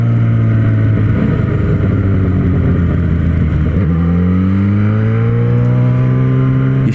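A Yamaha XJ6 motorcycle engine roars loud and close, holding a deep steady drone then revving up with rising pitch, continuous throughout.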